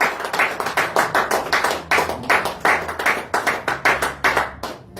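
A church congregation claps in praise at a morning worship service, producing steady, rhythmic, loud group hand claps throughout.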